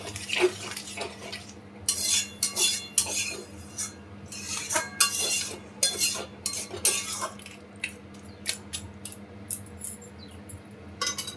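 Metal clinks and scrapes of a lid and utensils against a pot of crab claw curry, a run of sharp bright knocks and rattles over a steady low hum, close by and with no talk.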